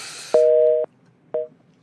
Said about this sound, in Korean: 아니, 몇 마디 하지도 않는데 전화가 끊어져 버렸네